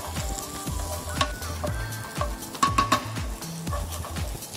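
Curry spice paste sizzling in a splash of added oil for curry fried rice, with steady frying hiss broken by repeated scraping stirs and soft clinks of a spatula against the pan, no talking.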